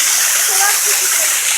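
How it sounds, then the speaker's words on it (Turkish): A forest waterfall on the road into Abant, Turkey, pours in a steady, loud hissing rush of falling water that fills the whole moment without a break. "gerçekten harika bir şelale var burada"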